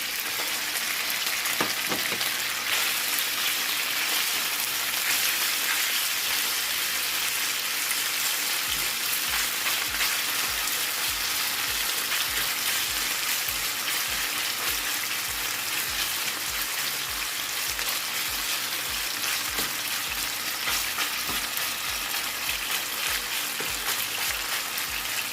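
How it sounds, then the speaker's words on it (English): Chicken and broccoli for a Chinese dish sizzle steadily in a hot pan, a dense, continuous frying crackle like light rain that stays loud and even throughout, with no talking. "It's sizzling straight in the pan."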